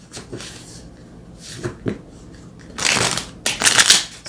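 Tarot-style divination cards being shuffled, bursts of crisp riffling and slapping, a few short soft shuffles early then two louder, longer riffles near the end, close and without talk.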